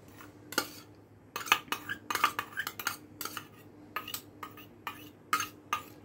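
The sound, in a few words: flattened rice and potatoes added to a big bowl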